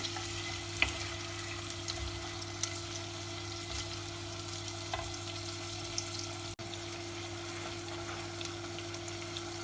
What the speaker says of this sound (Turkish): Eti tekrar yağda kavuruyoruz. Soğanı koyuyoruz.